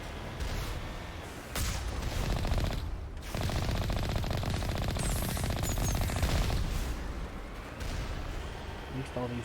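Automated turrets firing in the game Mass Effect: rapid, sustained machine-gun-style bursts with booming hits, broken by a couple of brief pauses, fairly faint and mixed with background activity.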